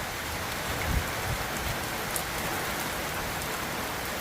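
Heavy rain pouring down during a thunderstorm, a dense, steady hiss of drops hitting surfaces, with a few low thumps near the start and no voices.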